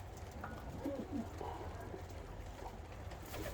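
Pigeons, young birds kept in a breeder's loft, give soft, low cooing calls in short phrases against steady background noise, with no one speaking.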